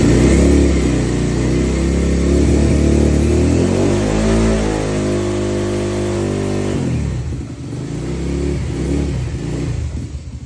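A small engine, likely a motorcycle, revs up loud and close, the pitch climbing and holding high before dropping sharply back to a rough, lumpy idle.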